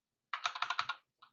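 Quick typing on a computer keyboard: a close, crisp run of about seven keystrokes, then a short pause and one final key tap.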